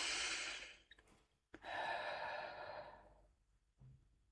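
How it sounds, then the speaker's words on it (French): A long, deep breath is drawn in and then slowly released, close and breathy, followed by a second airy exhale and a brief soft catch of breath near the end. "Prends une grande inspiration."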